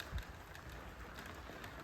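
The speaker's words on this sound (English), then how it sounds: "it's raining today, look" Steady rain falls on a garden with apple and pear trees, a soft, even hiss of drops spread across the whole stretch with no voices.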